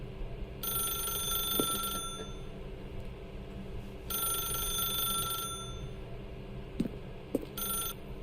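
A telephone rings inside The Stanley Parable video game, a clear electronic ring heard in repeated bursts of about a second and a half separated by pauses, with faint background tones and no talking.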